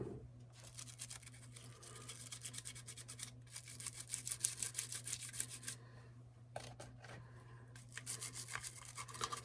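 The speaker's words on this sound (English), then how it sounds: "I'm just going to get a little bit of solvent on there and brush those rails real good" A small nylon brush wet with solvent scrubs the rails of a Walther PPK/S .22 LR pistol in quick, rhythmic back-and-forth strokes, close and fairly soft over a low steady hum, pausing briefly between bursts of scrubbing.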